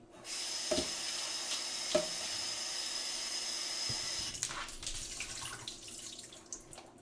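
Food being rinsed under a running kitchen tap while making a burrata salad: a steady close hiss of water pouring into the sink, a few sharp clinks early on, then the stream turns gurgly and uneven near the end.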